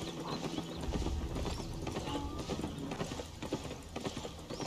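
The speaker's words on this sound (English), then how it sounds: "It does look like the longer you are on the horse, the faster he starts running." Horse hooves clip-clopping at a quick, even gallop in the video game Albion Online, a steady rhythmic patter of hoofbeats heard up close and alone over game ambience.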